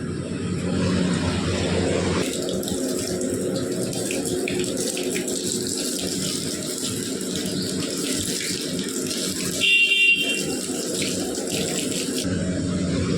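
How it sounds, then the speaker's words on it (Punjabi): Water runs steadily from a tap or pipe while plants are being watered, a continuous close gushing stream that shifts in tone midway, with a faint aircraft drone in the background. "ਪਾਣੀ ਲਾਉਂਦੇ ਆ"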